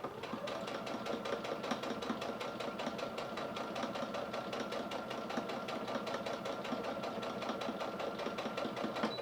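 A sewing machine stitching fabric for a face mask gives a fast, even mechanical chatter that runs close and steady without pause, with no talking.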